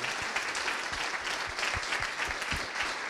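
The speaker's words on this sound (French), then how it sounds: "je tiens à ce qu'on l'applaudisse encore une fois" Audience applause at a conference on digital strategies, steady rhythmic clapping from a room of people, moderately distant and fairly quiet, with no talk over it.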